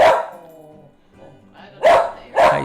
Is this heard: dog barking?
yes